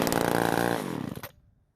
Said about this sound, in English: Now that we know that it runs